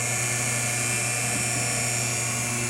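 GAST rotary vane pump motor running with a suspected stuck vane, a steady even electric hum with a faint high whine, unchanging and close.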